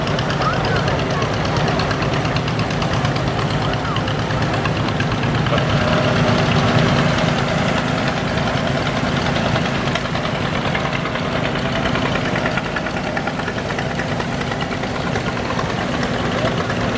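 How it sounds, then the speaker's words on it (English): A big John Deere tractor engine idles steadily at a tractor parade, a continuous low rumble with a faint knocking rhythm, close and unbroken, with a voice talking briefly. "There's a big tractor."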